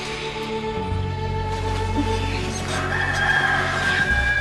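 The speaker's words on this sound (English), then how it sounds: "that rooster you hate so much" A rooster crows at an outdoor ranch setting in the Old West, with its call rising over a steady, loud, busy background of low hum and other farm noise and no talk.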